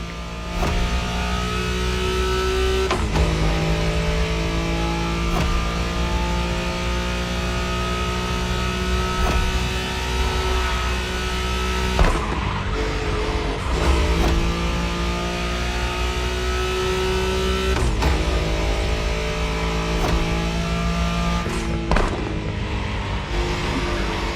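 A Nissan Skyline race car roars through the video game The Crew Motorfest. Its engine revs climb steadily and drop back at each gear change, and the loud drone continues without pause.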